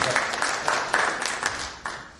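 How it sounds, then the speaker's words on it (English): An indoor audience claps for about two seconds, moderately loud, with a scatter of distinct individual claps over a steady wash of applause. "give him a big clap"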